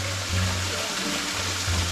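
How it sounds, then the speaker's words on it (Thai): A waterfall at the Chet Khot Pong Kon Sao campsite gives off a steady, close rush of falling water. It is a continuous broadband wash with a low hum beneath, and no voices are heard. "เสียงมัน ไม่เหมือนน้ำตกว่าไหม เสียงมันเหมือน เปิดน้ำใส่กะละมัง"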